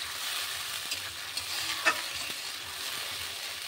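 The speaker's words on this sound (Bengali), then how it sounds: "মশলাটা ভালো করে কষে নেব।" A paste of tomato, cumin, ginger and chilli is sautéed in a pan, sizzling steadily and loudly up close, with a few soft scrapes as it is stirred.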